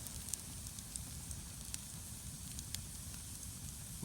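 A rusty campfire at a solo moss-shelter overnight camp crackles and hisses softly with steady low rumble and scattered faint pops, quiet and continuous with no voices.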